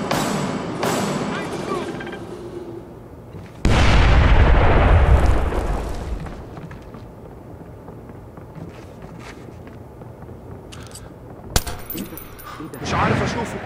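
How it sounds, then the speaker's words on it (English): A grenade in the Splinter Cell Blacklist game blows up in a loud, heavy blast, with rumbling debris and gunfire scattered around it and clattering footsteps and gear nearby. "Go. Grenade out."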